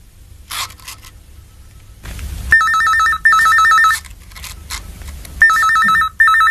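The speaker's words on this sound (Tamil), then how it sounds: "போன் எடு" A telephone rings in a domestic scene from a Tamil television serial, giving loud repeated electronic ring bursts separated by short gaps, with brief rustling and background noise between the rings.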